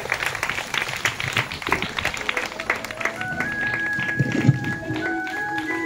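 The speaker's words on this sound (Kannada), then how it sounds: "ಒಂದು ದೊಡ್ಡ ಚಪ್ಪಾಳೆ" Applause from an audience at a children's Krishnashtami fancy dress show, scattered clapping mixed with crowd noise and a voice speaking over it.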